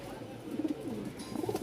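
Pigeons coo in a couple of short, soft bursts, close by and with no talking, as birds are handled and sold in Bangladesh.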